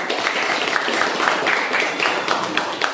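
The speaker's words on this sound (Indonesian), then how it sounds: "berikan tepuk tangan" Steady applause from a group, dense and continuous clapping throughout with a few louder peaks.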